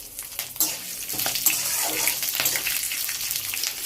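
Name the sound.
frying mung dal and greens in oil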